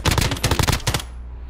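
Rapid bursts of automatic gunfire in the video game Warzone crackle loudly for about a second, then trail off into a fading echo with no voices.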